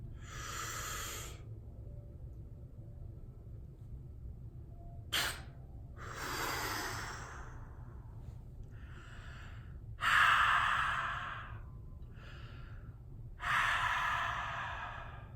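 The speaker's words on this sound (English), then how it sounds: "I'm going to blow it into my nostril" Rapé snuff blown into a nostril through an applicator pipe, heard as a few short, sharp breathy puffs and hissing blasts spaced apart, with softer exhales between and no talking.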